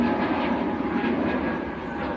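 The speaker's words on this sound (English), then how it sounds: "Jet2 just getting airborne. A321neo." Jet2 Airbus A321neo taking off at Manchester Airport, a steady broad engine roar that holds loud and even throughout with no speech over it.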